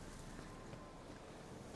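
Night wind blowing in The Witcher 3, a steady, faint, broad rushing sound with no talking.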